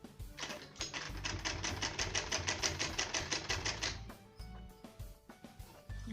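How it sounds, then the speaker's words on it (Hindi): Sewing machine stitching a fall onto a saree, running in a fast, steady rattle of needle strokes for about four seconds, then stopping with a few faint clicks and handling sounds. "यहाँ पर सिलाई लगाएंगे।"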